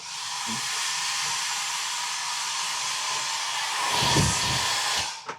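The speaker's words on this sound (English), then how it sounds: "And the hair dryer, so you can dry your hair here." A hair dryer in a Carnival Panorama cruise ship cabin blows with a steady, loud airy whir that holds for several seconds, then winds down near the end.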